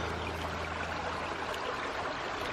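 A creek streams steadily, with broad, constant rushing water close by and no voices, the flow unbroken from start to finish.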